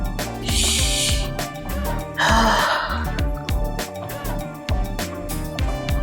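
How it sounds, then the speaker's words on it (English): Loud, breathy exhales and gasps cut through upbeat workout music, coming in heavy bursts close to the microphone. "Y'all hear how loud I'm breathing?"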